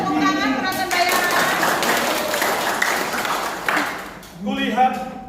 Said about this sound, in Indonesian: Ayo tepuk tangan penonton bayaran.